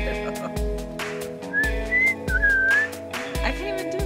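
A person whistles a few short rising and wavering notes, fairly close, over a repeating rhythmic background beat with some voices nearby.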